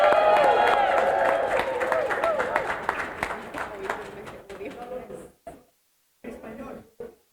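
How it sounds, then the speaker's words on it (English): Applause and crowd cheering for a city council alderman at an activists' gathering after a council vote, loud and sustained at first, then fading into scattered claps and voices before a short pause and talk resuming. "Give a round of applause for Alderman Walter Bernett."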